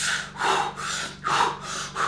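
Deep, rhythmic breathing exercise: three slow, loud breath cycles, close to the microphone, with airy inhales and exhales repeating roughly every three-quarters of a second, no talking.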